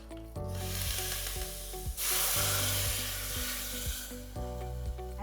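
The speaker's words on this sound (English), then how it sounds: "Add a pinch of hing to this, a sprig of curry leaves, now just lace this curry with the tadka." Hot tadka of mustard seeds, hing and curry leaves sizzles loudly as it is poured over a moong curry, a steady crackling fry with a brighter surge midway, no talking.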